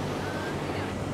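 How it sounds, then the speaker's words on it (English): Ocean waves breaking behind a beach make a steady, broad wash of surf that fills the whole short stretch, with wind rumble against the microphone and no talk. "those waves right behind you"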